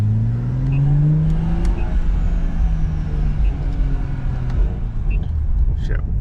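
BMW M340 car heard from the rear while driving, with a loud steady engine and exhaust drone and rising tones as it accelerates, plus faint higher turbo whistles over constant road rumble.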